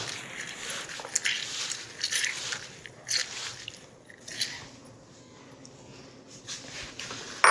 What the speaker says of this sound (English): We'll do half an orange juice. Half is fine. So let's just squeeze out.